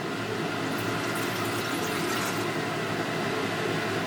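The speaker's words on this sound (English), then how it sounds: "I'm going to add some distilled water, about 200 milliliters." Distilled water, about 200 milliliters, pours into a beaker in a steady, fairly loud rushing stream that continues unbroken for several seconds.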